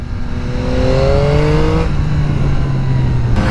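A 2022 Yamaha XSR900 motorcycle pulls hard through the gears with a quick shifter, its engine note climbing, dropping sharply at each shift and rising again, loud and close over steady wind noise.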